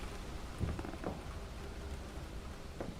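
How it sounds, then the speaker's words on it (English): Steady rain patters in a video game, a continuous broadband hiss with a few faint low thumps, moderately quiet throughout. "But it's just the rain."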